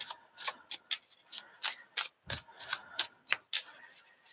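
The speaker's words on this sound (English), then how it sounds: "So still shuffling for Pisces." Rapid rhythmic riffling of a deck of cards being shuffled, a dozen or so crisp flutters close by, fairly quiet.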